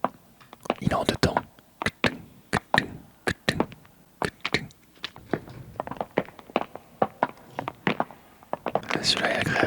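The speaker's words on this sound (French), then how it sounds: "Deuxième bruit de pas" Soft ASMR footstep sound effect in a two-beat pattern: a close, steady series of light taps and thuds, some stronger than others, with faint rustle between them.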